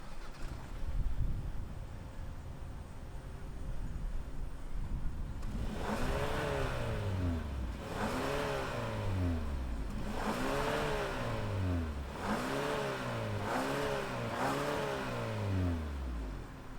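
A 2021 Hyundai Sonata N Line idles quietly before its engine fires up, then revs loudly in five or six repeated rising-and-falling bursts, close by with no talking.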